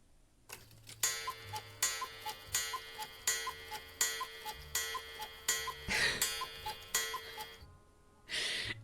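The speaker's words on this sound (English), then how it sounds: "It's been so long since I heard a cuckoo clock." A wall clock ticks in a video game, steady even ticks about twice a second, close and clear, ending with a brief soft breathy sound.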